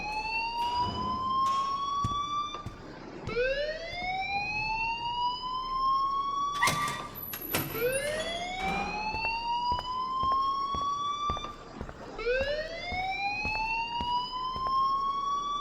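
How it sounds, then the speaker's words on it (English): A school fire alarm in the video game Life Is Strange wails in repeated rising sweeps, loud and insistent, with sharp clicking pulses and a brief high squeal between cycles, no talking. "please turn off that alarm since that's your job"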